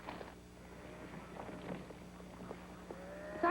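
Cattle lowing in a 1950s Western television series, a few drawn-out moos carrying faintly at a distance over a low steady background hum.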